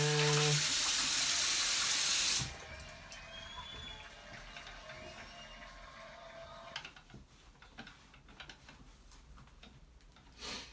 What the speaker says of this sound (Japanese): 皆さんもちゃんと手洗いしましょう。